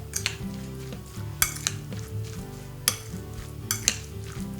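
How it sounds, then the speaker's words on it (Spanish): Tofu and yogurt being stirred together into a vegan ricotta filling, with a few sharp utensil scrapes against the bowl over a steady tonal musical bed. "Entonces mezclamos bien."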